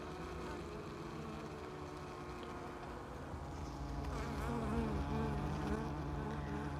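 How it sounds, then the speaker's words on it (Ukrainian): Swarm of wild bees buzzing around their nest in a hollow log, a continuous dense hum that swells louder in the second half, with faint low tonal engine-like drone beneath. "багато бджоли, дуже багато вилітало-літало тут навкруги"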